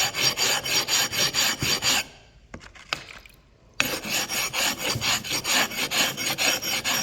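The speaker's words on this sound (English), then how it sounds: "then you have a regular knife sharpening stone with the heavy grit and the smoother grit" A metal hand tool is rubbed back and forth on a knife sharpening stone with heavy and smoother grit, giving loud, rhythmic rasping strokes close by, with a short pause midway before the strokes resume.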